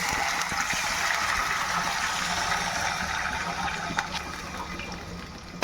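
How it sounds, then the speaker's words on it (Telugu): Water pours steadily into a cooking pot for a breakfast dish, a continuous close rushing splash that holds at the same loudness throughout with no talking. "ఇప్పుడు దీంట్లో వాటర్ వేసుకోవాలి."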